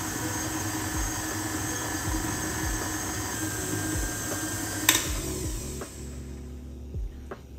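Electric mixer whipping cream with vanilla on a low setting, a steady whirring motor hum with faint rhythmic beater ticks, followed by a brief clatter and the drone quieting toward the end.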